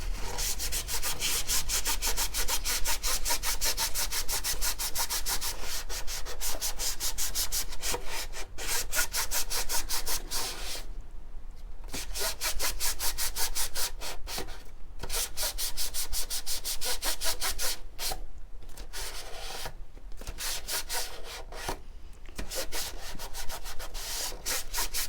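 Rapid, continuous rubbing strokes from a wipe scrubbing grease and dirt off the inside of a motorcycle fender part. The dense, close scrubbing is broken only by a few brief pauses and no voices.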